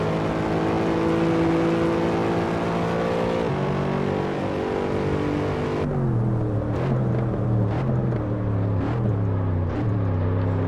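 Mercedes SLS engine in Assetto Corsa racing, a steady loud drone of harmonic tones that shifts pitch with gear changes and throttle, revving continuously with no talk.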